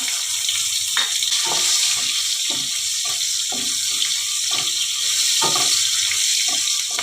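Chopped onions frying in a pan with cumin and bay leaves, a steady close sizzle with a bright hiss and soft irregular pops, no voices over it.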